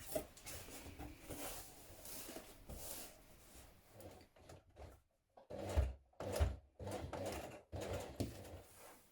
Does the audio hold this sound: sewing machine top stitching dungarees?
yes